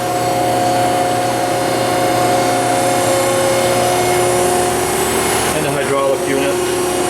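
A Kennametal Extrude Hone Vector 250 Series 10/6 abrasive flow honing machine with a hydraulic stack and booster pump runs with a loud, steady mechanical hum and sustained tonal whine, shifting briefly near the end.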